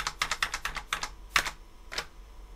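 Computer keyboard arrow keys are pressed while working in Photoshop, producing a quick run of crisp, close clicks, then a few slower, isolated presses, with no talking.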